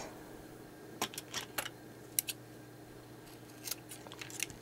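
Scissors snipping fabric trim for journal embellishments: a few quiet, close, crisp cuts spaced irregularly over a soft hum, with no talk.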